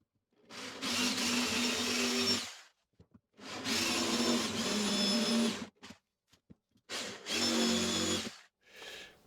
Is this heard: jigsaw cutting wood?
yes